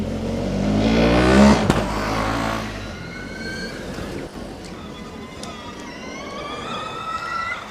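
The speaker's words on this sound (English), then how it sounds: "it doesn't really sound good when the car is passing by here" A Formula Student race car in an endurance session at FSCZ 2025 passes by loud and close, its whine rising and then falling as it goes. A thinner high-pitched tone carries on faintly afterward.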